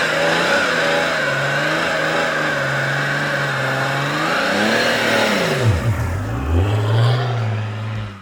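A tuned 2011 BMW 335d M Sport diesel pulls hard under acceleration, its engine droning and rising loud and close, then dipping through a gear change before climbing again.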